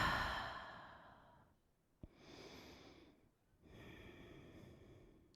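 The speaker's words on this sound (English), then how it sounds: "Take a couple of deep breaths here." During a yoga pose, a person takes two or three slow, deep breaths that are soft and close, each long airy inhale or exhale separated by a short pause of quiet.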